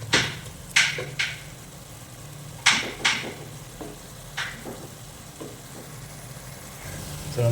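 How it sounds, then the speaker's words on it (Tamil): Onions sautéing in oil in a pan hiss with a steady sizzle, broken by several sharp clinks and scrapes of a utensil against the pan. "நல்லா கொஞ்சம் வதங்கட்டும் வெங்காயம்."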